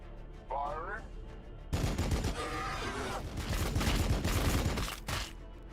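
Weapons open fire in a video game as a sudden, loud barrage of rapid gunshots that continues for several seconds, with a brief voice-like sound just before it and layered game effects underneath.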